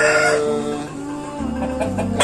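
A rooster crows once, loud and close, with a long drawn-out call followed by a few shorter clucking notes.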